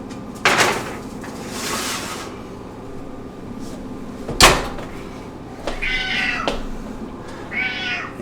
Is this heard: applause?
no